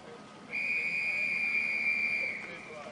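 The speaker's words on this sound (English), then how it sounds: "The whistle gets them to the blocks." Referee's whistle at an Olympic swimming race start in Rio, a single steady high-pitched blast held for about two seconds over a murmuring arena crowd.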